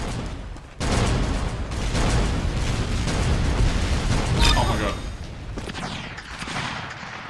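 Gunfire rattles in the Roblox game Arsenal, a dense run of loud digital shots and impacts heard throughout amid game noise.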